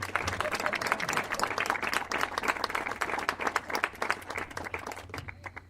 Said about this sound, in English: round of applause for both